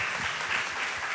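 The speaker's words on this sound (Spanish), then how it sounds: "Un aplauso para Samu" A short burst of audience applause at an end-of-year concert at a music school, a brief, even wash of many hands clapping together.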